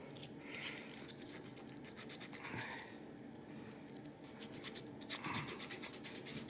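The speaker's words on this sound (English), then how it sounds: "So now I've just got a little 150 grit sandpaper." 150 grit sandpaper rubs back and forth over the metal of an Amazon Basics No. 4 hand plane, making two bursts of quick, rhythmic scratchy strokes, close and fairly quiet, separated by a short pause.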